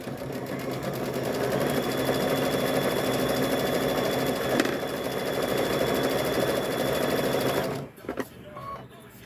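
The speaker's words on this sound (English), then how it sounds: "Stitch this one down." A sewing machine stitches fabric with a quarter-inch seam, running loud and steady with a fast whirring rhythm for about eight seconds before stopping abruptly, followed by a few faint clicks.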